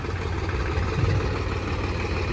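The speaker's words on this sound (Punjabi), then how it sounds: "ਦੋ ਟਰੈਕਟਰ ਲੱਗੇ ਹੋਏ ਆ 857 ਸਵਰਾਜ ਪੁਰਾਣਾ ਮਾਡਲ" An old Swaraj 857 tractor engine runs steadily at idle, a continuous low rumble with a slight swell near the middle, close by and with no voices.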